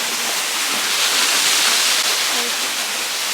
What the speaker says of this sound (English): So we're currently at the Abundancy Fountain where there's spring water.